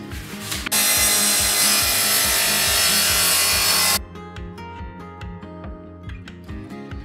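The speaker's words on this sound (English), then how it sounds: "so I can cut with the table saw as far as I possibly can without getting some overlap of the saw blade" A table saw cuts through a wooden board for a van bed frame, a loud steady whine for about three seconds before the blade clears and spins down, leaving rhythmic machine hum and clicks.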